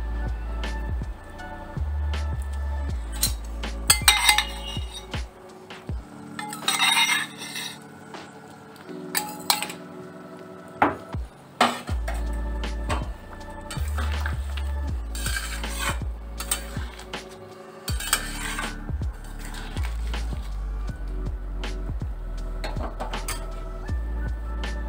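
Pointed gourd tipped into a frying pan, then stirred with repeated metallic clanks and scrapes of a spatula against the pan over a low sizzle, close and irregular throughout.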